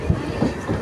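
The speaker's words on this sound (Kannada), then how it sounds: "ಪಕ್ಕದಲ್ಲಿ ಟ್ರೈನ್ ಹೋಗ್ತಾ ಇದ್ದೀವಿ ನಾವು." Brief, close rumble of a train running alongside, with rhythmic clickety-clack of wheels over rail joints.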